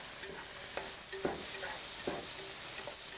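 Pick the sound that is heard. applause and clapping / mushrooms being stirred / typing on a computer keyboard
mushrooms being stirred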